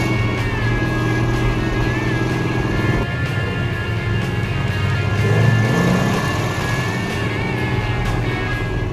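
A one-owner 1969 1/2 Dodge Super Bee with a 440 Six Pack V8 and 4-speed drones loudly and steadily under throttle, its deep engine note swelling slightly midway as it pulls.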